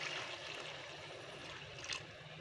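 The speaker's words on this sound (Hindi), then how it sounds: "बिल्कुल हाफ गिलास मैंने इसके अंदर पानी ऐड किया है।" Half a glass of water poured into curry gravy, a continuous close trickling and gurgling pour lasting a couple of seconds, with no talking.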